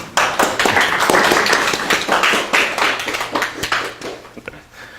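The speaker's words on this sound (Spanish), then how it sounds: "Démosle un aplauso a Pardo, por favor." An audience at a mathematics lecture breaks into sustained applause, many hands clapping densely together, loud and close, tapering off toward the end.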